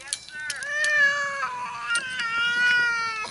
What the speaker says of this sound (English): This is the heaviest cat I've ever rescued.